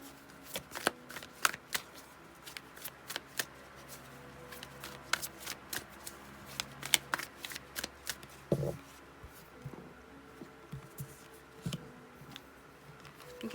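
Tarot cards being shuffled for a love reading, a run of quick crisp riffles and soft card slaps in an uneven rhythm, close and fairly quiet, with no voice.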